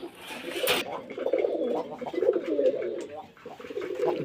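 Rasgolla pigeons, a paired red male and female, coo in a close rolling series that runs steadily through the clip, with a brief rustle near the start and a voice talking faintly beneath.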